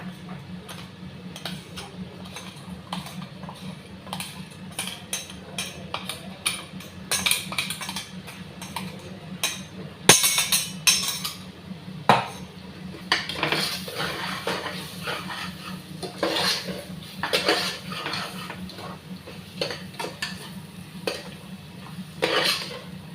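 Whole spices and coconut paste roasting in a pan for a mutton curry, stirred with a utensil that scrapes and taps against the metal in an irregular run of close clinks over a low steady sizzle, with no speech.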